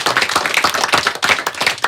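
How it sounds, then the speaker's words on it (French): Rhythmic clapping from a studio audience at a French children's broadcast, a quick, steady run of close, sharp hand claps with no voices. "vous pouvez l'applaudir aussi"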